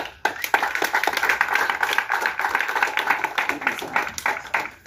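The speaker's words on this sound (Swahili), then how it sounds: "kaanza kumpigia makofi nabii wa Mungu." A congregation claps in honour of a prophet at a church service, rhythmic hand claps in a fairly quick, even beat, close and lively, with voices calling out over the clapping.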